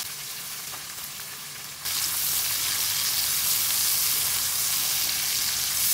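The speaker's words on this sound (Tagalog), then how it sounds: "At nag-start na rin ako maggisa ng luya," Ginger, onion and garlic hit hot oil and butter in a pan, and a loud steady sizzle jumps up abruptly and then keeps going.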